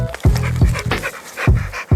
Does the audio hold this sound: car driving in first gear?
no